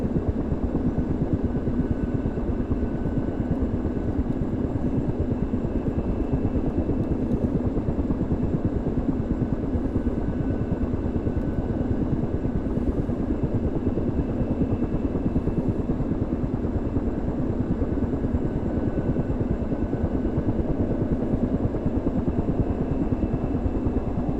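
The twin engines of a Ka-50 Black Shark attack helicopter spin up in the DCS flight simulator, a steady, droning turbine whine and rumble that runs without a break throughout.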